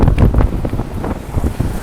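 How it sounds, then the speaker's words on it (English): Strong wind gusts buffet the microphone on a city street, producing a loud, continuous low rumble and flutter with no voices. "it's real windy."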